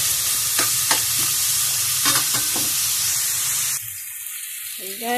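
Ginger, garlic and corned beef sauté in a pan with a steady close sizzle and a few utensil taps, the frying dropping away sharply near the end.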